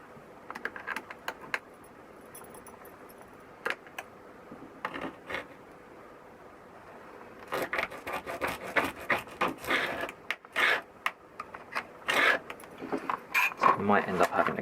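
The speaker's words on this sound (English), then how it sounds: "I'll see if I can score it a bit deeper and then use the little cutters on the side here" A cutter scores and snaps borosilicate glass, making sharp scraping, clicking and gritty rubbing bursts that start sparse and become dense and louder toward the end, recorded close up.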